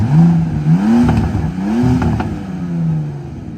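The V12 engine of a Bentley Continental GT revs up and down in repeated rising and falling sweeps, loud and close, with no talking.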